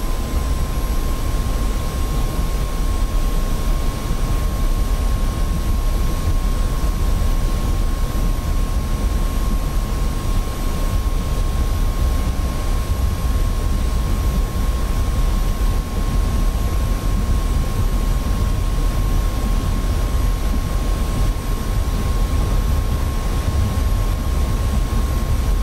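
F-86 Sabre jet engine at full power on the takeoff roll in the flight simulator DCS: a loud, steady roaring rumble with a constant whine running unbroken throughout, with no talk.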